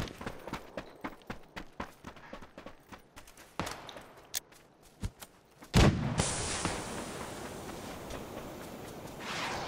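Mortar fire in a squad-based shooter video game: a series of sharp thumps and booms, closely spaced and fairly loud, ending in a sustained rumbling roar of blasts.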